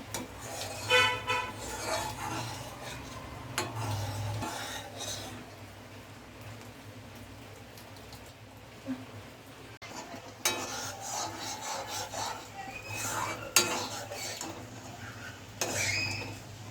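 Sweet-sour plum chutney stirred in a pan, a spoon scraping and clinking against the metal in repeated close strokes with a faint sizzle, while a voice talks intermittently over it.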